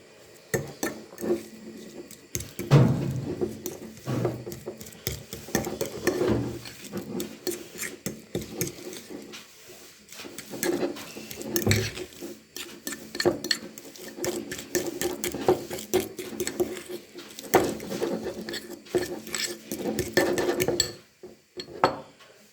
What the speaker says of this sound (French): à l'aide d'une fourchette, on va le mélanger le tout